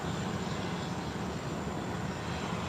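Steady broadband roar of aircraft noise fills the air at the lower level of an airport near the parking and pickup area, constant and fairly loud with no distinct breaks.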